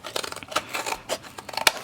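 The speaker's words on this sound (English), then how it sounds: "But you definitely need some heavy duty scissors to" Heavy duty scissors slice through thick chipboard for a printable mini album cover, giving a series of crisp, close snipping crunches in quick irregular succession with no talk.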